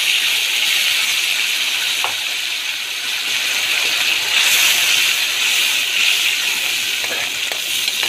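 Golden fried onions with tomato, ginger and chili paste sizzle steadily in a pan, a constant close hiss with a few faint clinks of stirring throughout.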